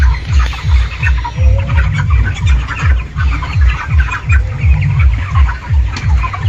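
Chickens at a poultry farm cluck steadily in a dense, busy flock, with rhythmic low pulses running throughout and no talking.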